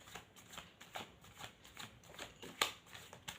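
Tarot cards are shuffled in a steady run of soft, papery riffles and flicks, close and fairly quiet, with one sharper snap near the end and no talking.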